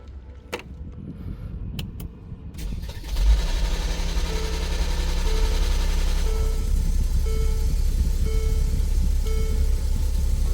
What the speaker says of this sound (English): we had this crazy noise as you heard it, but the engine started